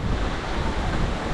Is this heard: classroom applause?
no